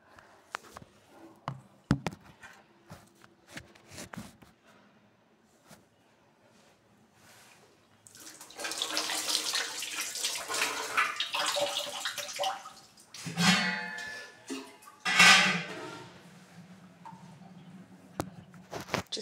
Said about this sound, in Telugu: సో కొంచెం వాటర్ వేసుకుంటాను